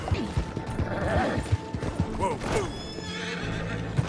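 A horse in Red Dead Redemption 2 gives a loud whinny while its hooves clop in a steady walking rhythm, with soft creaking tack underneath.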